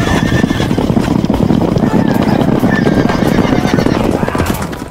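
Charging knights' horses in a fantasy battle video game, Empire against a Skaven horde: loud, continuous galloping hooves with repeated neighs and whinnies, dense and close throughout.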